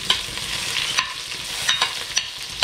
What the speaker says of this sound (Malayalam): നമുക്ക് ഉള്ളി ഇട്ട് കൊടുക്കാം, സവാള ഇട്ട് കൊടുക്കാം.